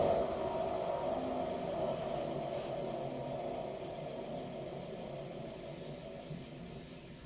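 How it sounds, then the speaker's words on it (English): Restored Thor 1HP 10-inch bench grinder running steadily with a slight wheel imbalance, giving a continuous low hum and whir with a faint rhythmic wobble, close and moderately loud, alone without speech. "Maybe I'll start it up and let you guys hear it. You can hear the imbalance in the wheel here"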